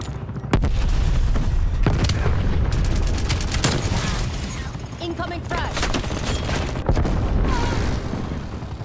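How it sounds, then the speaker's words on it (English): Frag grenade blast in Call of Duty Black Ops Cold War Domination, a loud boom among dense, continuous gunfire and game battle noise, with sharp reports scattered throughout. "Incoming frag."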